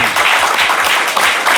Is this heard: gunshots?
no